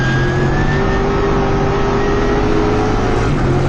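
TA2 race car on track with its engine holding a loud, steady, high drone that carries a sustained whine and barely changes pitch, with no talking.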